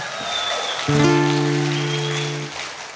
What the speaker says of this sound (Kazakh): Оған да бір шапалақ ұрсаңыздар